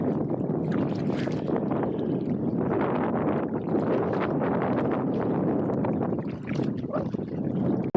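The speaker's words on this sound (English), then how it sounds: "the wind has picked up to a little over 20 miles an hour" Strong wind of over 20 mph sweeps across a lake during a kayak paddle, making a constant, rough roar of wind buffeting the microphone that goes on for the whole stretch.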